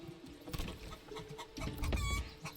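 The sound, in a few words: chickens clucking in the video game Manor Lords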